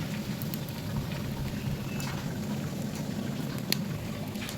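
Water boiling in a copper pot for cooking rice, a steady low bubbling churn that holds evenly throughout, fairly close and continuous with no talk over it.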